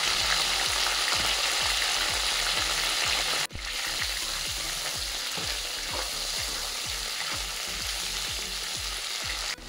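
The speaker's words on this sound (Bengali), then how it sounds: "এটা হাই হিটে ভেজে নিতে হবে।" Sliced okra frying with onions in a pan over high heat: a loud, dense, continuous sizzle with rhythmic scraping of stirring throughout, close by and without any talk.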